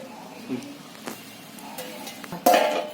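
A lid is set onto a pot of veg dum biryani, a few light metallic clinks and taps followed by one sharper clatter near the end, close and fairly quiet.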